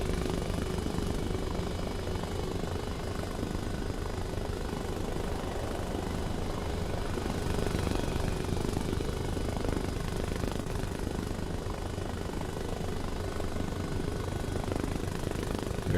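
A Little Bird helicopter flying in the video game Arma Reforger, a steady dense rotor and turbine roar that holds constant throughout with a slight swell midway, no speech.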